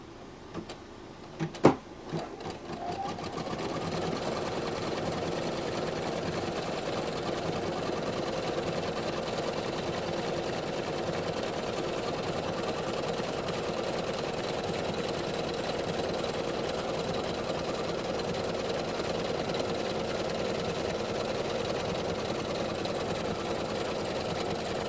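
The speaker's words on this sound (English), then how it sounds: "we're going to stitch piece J to the back" An embroidery machine stitches a wallet piece held in the hoop, with a steady, close mechanical whir and needle rhythm that runs unbroken after a couple of sharp knocks at the start.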